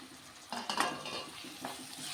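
Tomatoes fry with onion in a pan, with a faint sizzle under a few clattering stirs of a spoon against the pan.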